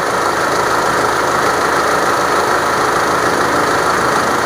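A car engine idling steadily with a simple homemade water injection system fitted, a loud, even, close-up drone with no change in pace and no talking.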